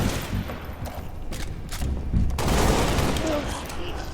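Bursts of gunfire crackle in the Halo: Reach video game, scattered shots giving way to a dense, loud sustained volley of rifle fire and rumbling explosions.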